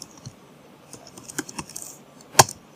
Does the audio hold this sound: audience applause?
no